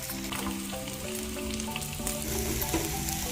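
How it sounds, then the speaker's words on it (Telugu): Chopped chilies and onion frying in about a quarter measure of oil, a dense steady sizzle with crackling spatter and occasional stirring, close and continuous throughout. "ఒక పావు నూనె వేసుకొని మనం కట్ చేసి పెట్టుకున్న మిరపకాయలు, ఉల్లిగడ్డ వేపుకోవాలండి కొంచెం దూరగా"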